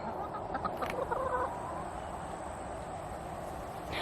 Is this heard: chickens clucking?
yes